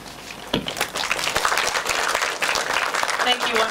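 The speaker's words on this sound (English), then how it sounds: "Audience is applauding" Audience at a panel discussion on social media as a tool for reporting in crisis breaks into applause, a steady patter of many hands lasting several seconds at moderate volume, with a sharp knock near the start.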